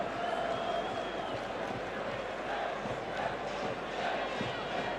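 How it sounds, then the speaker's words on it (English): Football crowd at Anfield during the Euro 96 match between Italy and the Czech Republic, a steady, continuous roar of distant voices filling the stadium and holding at an even level throughout. "It's a good crowd here at Anfield tonight."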